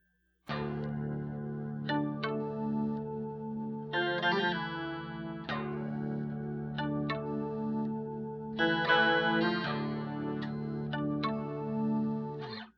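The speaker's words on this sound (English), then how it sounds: "This adds overtones and undertones to the signal and adds some pretty cool effects" Electric guitar riff played through an MD-200 modulation pedal on an overtone setting, shimmering with added overtones and undertones; sustained chords and picked notes ring out alone, with no speech.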